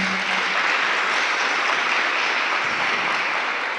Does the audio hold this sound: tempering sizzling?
no